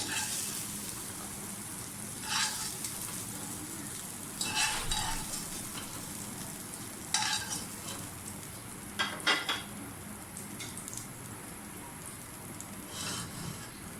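Vegetables for chicken jalfrezi sizzle steadily in a pan, a constant frying hiss with occasional clinks and scrapes of a utensil against the metal, no voices.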